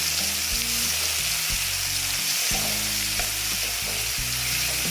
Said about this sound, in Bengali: আদাটা আর টমেটোটা ভেজে নিচ্ছি